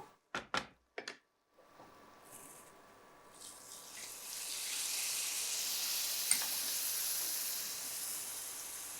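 A few sharp clatters, then a loud hissing sizzle builds and holds as tamarind water hits a hot pan of spiced masala, with steady frying crackle continuing.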